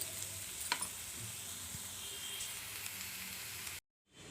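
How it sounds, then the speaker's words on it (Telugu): Continuous bright sizzling of ingredients frying in a pan for an egg curry with green chillies and curry leaves, steady and close, ending abruptly in near silence. "ఇది దోరగా వేపుకుందాం"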